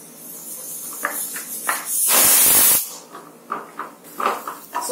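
Coconut and cashews sizzle in a hot pan, a steady frying hiss with a loud burst of steam and crackle midway as the coconut goes in, then softer stirring sizzles.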